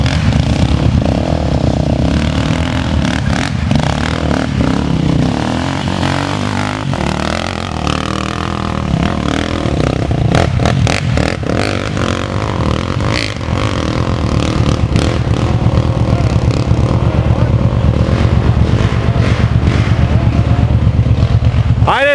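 A Kawasaki KFX 700 ATV engine revs hard and steadily while climbing an off-road slope, with loud sustained engine roar and repeated throttle surges. Faint voices can be heard in the background.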